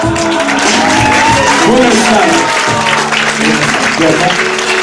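An audience at a live show in a café claps loudly throughout, with scattered shouts in the crowd while a host speaks over the applause.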